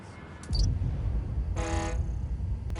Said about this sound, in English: Sounds like a truck horn, but very garbled